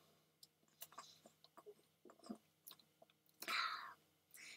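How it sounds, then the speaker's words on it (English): Someone chews and swallows a muffin close to the listener, making soft, irregular wet chewing clicks and mouth noises, followed near the end by a brief louder swallow-like sound. "Chewing and swallowing."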